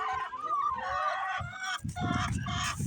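Chickens cluck and squawk nearby in a short burst of overlapping calls, with rustling and a thump as they move about, and no speech over them.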